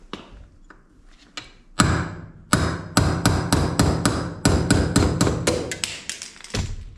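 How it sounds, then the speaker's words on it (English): Hammer striking a pin to knock it out of a mini bike engine being swapped for a 420 big block, a rapid series of sharp, loud metallic blows close by, with a few softer taps at first. "So there's a pin right here. We're just gonna knock that out."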